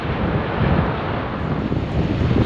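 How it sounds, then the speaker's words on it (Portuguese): A south wind blows across an open ocean beach on the long coastal stretch between Cassino and Chuí, a loud, continuous roar of gusting wind buffeting the microphone, with surf blended into the rumble. "E agora o vento sul."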